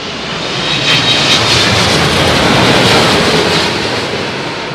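A Boeing 787 Dreamliner lands at Heathrow in windy conditions, its engines producing a loud, broad, continuous roar. The roar swells and holds steady throughout, with wind rushing in the background.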